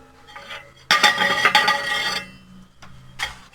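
A metal deflector plate is handled inside an Aldi kamado grill, giving off scraping, clattering metallic rubs in a few bursts with quieter gaps between them.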